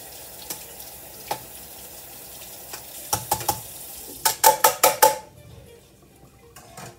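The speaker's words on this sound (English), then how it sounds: "while my onion is sauteing" Onions are sautéing in a pan with a soft sizzle beneath, while sharp clanks of pots, lids and utensils ring out in quick clusters, close and loud.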